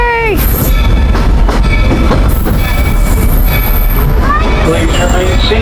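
The Walt Disney Railroad train rolls into Main Street Station and slows to a stop, with loud rumbling wheels, metallic squeals and clanks close by, under a spoken announcement.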